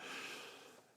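A single smooth inhale through one nostril during alternate nostril breathing, soft and close, tapering off over about a second with no talking.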